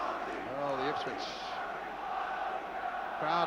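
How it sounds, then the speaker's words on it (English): Football crowd at Ipswich Town versus Orient in an FA Cup fourth-round match, shouting and chanting for a player from the stands, a broad roar with rising chant swells, heard under a commentator's voice. "crowd are shouting for Arnie."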